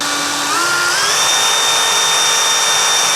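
A hand-held power drill whines steadily at close range while boring a gearbox spacer held in a drill jig, pitch settling after a brief rise, loud and continuous with no talk.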